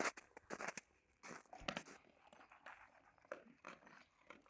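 Several dogs eat food close by, with wet chewing, crunching and biting sounds in uneven bursts of varying loudness.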